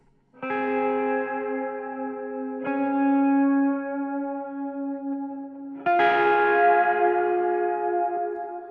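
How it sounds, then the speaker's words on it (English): A sustained instrument note rings out with a long, lush plate reverb tail, struck again twice, the last attack brighter and louder, decaying smoothly. "I'll start with the reverb. Okay, so here's the reverb in there."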